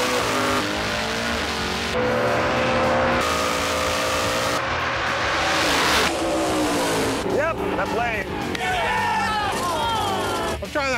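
A 1970 Chevy Nova with a big-block Chevy engine races in a drag race at Sonoma Raceway, loud engine roar rising through shifts with tire noise, crowd and track ambience, and an announcer talking over it.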